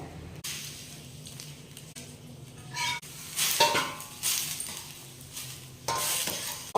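Plain cowpea dosa batter cooking on a pan, a soft sizzle under intermittent clinks and scrapes of a metal utensil against the pan, with a few sharper bursts of frying noise.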